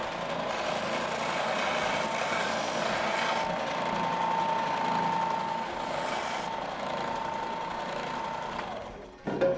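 A belt sander runs continuously while sanding off a neck tab, a steady close whirring drone with a faint tonal whine that holds for about nine seconds, then cuts off sharply near the end.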